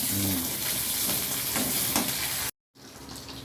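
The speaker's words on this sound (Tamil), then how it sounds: "சின்ன வெங்காயம் ஒரு இருபது சின்ன வெங்காயம் ஒரு ரெண்டு துண்டு இஞ்சி இதெல்லாம் போட்டு நல்லா வதக்கி விட்டுருங்க" About ten garlic cloves, twenty shallots and two pieces of ginger are sautéed in a pan for Madurai kara chutney, giving a loud, close sizzle with stirring scrapes, then a short silent cut before quieter frying resumes.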